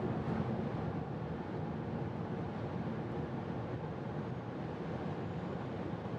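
A Togg T10F electric car accelerating hard toward top speed past 120, heard from inside as a loud, constant roar of wind and road noise with no voices.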